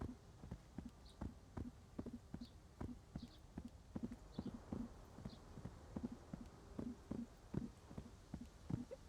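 Horse hooves clip-clopping at a steady walking rhythm in the medieval game Gloria Victis, the regular, fairly close hoofbeats heard alone and quietly.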